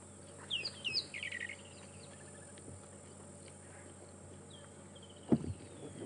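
A rattling cisticola calls on a morning safari drive at Djuma and Arathusa, giving a few short, bright chirping bursts early on against quiet outdoor ambience, followed by a brief thump.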